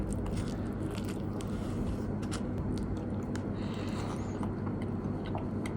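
A bite into a soft kebab with fairly hard bread, heard as close, crisp crunching and chewing against a steady noisy background, with no talking.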